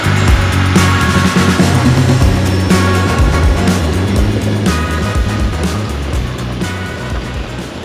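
A newly arrived truck for the wheel trailer rumbles nearby, a loud, continuous low engine roar with rough mechanical texture that slowly eases off over several seconds.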